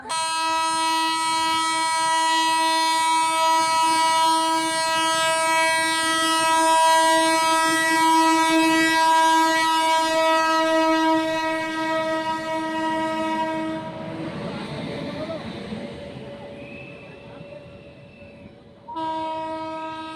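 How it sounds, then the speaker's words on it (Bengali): A loud train horn blares continuously for a long stretch as a train arrives at Jayrambati station, then gives way to the rumble and rattle of cars rolling in, with a brief horn blast near the end. "ট্রেন ঢুকছে এই মুহূর্তে ঢুকছে জয়রামবাটিতে"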